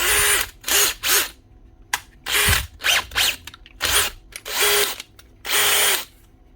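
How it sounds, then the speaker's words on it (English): A repaired cordless drill revs in several short bursts with pauses between, its motor whining up and down close by, no speech. "Chuck's working, drill's working, light's working."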